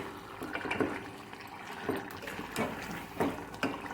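Chicken gravy curry stirred with a spoon in a pot makes thick, wet sloshing and squelching in a few slow irregular strokes, soft and close, with no talking.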